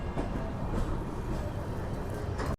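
Garib Rath SF Express rolling slowly through Yelahanka junction, a steady broadband rumble with faint rail clatter, continuous and fairly loud throughout.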